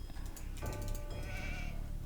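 A sheep bleats once in Age of Empires 2, a short, clear, nasal cry rising and wavering over soft game background sounds and a few clicks.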